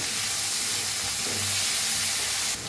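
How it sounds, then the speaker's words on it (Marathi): Tomato and onion fry in a pan, a loud, dense, steady hiss of sizzling oil that cuts off abruptly at the end. "टमाटो कांदा भाजत आलाय चांगला"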